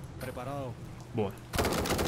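A short burst of rapid gunfire from the video game Narcos erupts near the end, following a couple of brief spoken words.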